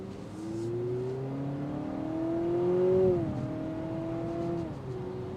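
A 2025 Honda Civic Hatchback Hybrid accelerating, heard as a steady engine drone rising in pitch, briefly dipping, then climbing again, moderately loud and steady, with no talking.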